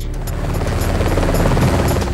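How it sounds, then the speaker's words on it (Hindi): A helicopter in flight during an election campaign tour in India, a steady loud rotor and engine drone with a low thudding beat that holds evenly throughout, with no talk. "करीब 3 महीने तक मोदी का हेलीकॉप्टर उड़ता रहा।"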